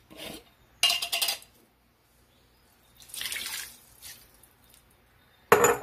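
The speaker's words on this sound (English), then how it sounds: "Now you're going to add 4 cups of water." Water poured from a container into spaghetti sauce in a crockpot, a few short splashing bursts with quiet pauses between them and a final louder pour at the end.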